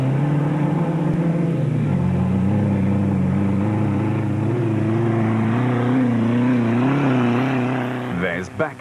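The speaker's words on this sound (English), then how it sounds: "their big and impressive sounding Ford Racing Ranger" The Ford Racing Ranger rally truck engine drones loud and close, a steady throaty rumble with shifting revs throughout, and a commentator speaks over it.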